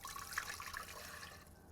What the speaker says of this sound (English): First, we're going to add 2 cups of just water,